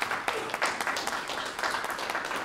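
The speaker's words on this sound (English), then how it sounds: "Let's give Regina an applause" Applause in a meeting room at an academic paper session, a small group clapping unevenly with clear individual claps close by, steady for a couple of seconds.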